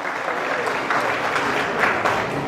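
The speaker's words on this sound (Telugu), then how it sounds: "ఒకసారి గట్టిగా చప్పట్లు కొట్టి జయజయలు పలకాన్ని కోరుతున్నా" An audience at a political government-program event in Vinukonda, Palnadu district, claps loudly and steadily in a dense burst of applause.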